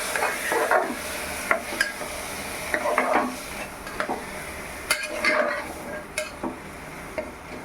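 A spoon stirs potato and dal in a pot with turmeric for khichdi, with repeated scraping strokes against the metal and a soft sizzle underneath, close and steady.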